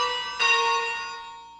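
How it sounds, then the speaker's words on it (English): Two bells ring in the Ringing Room bell-ringing simulator: a struck bell tone that starts the clip and a second strike just under half a second later, each with a bright metallic onset and a long, clear decay, heard alone and fairly quiet. "So J and F will ring two bells like that."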